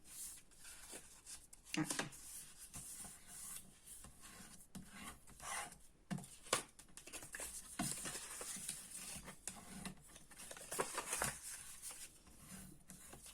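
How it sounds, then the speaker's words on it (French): Paper folded and creased with a bone folder for a scrapbooking project, heard as quiet, close strokes of rasping and rubbing at an uneven pace, faint overall and without talk. "je vais venir prendre mon plioir et je vais venir plier au niveau de tous mes plis"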